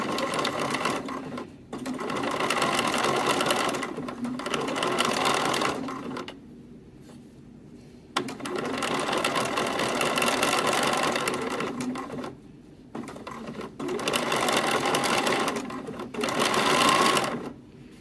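Sewing machine zigzag stitching along the leg edge of lace lingerie, running in several long loud bursts separated by brief pauses, close and alone without talk.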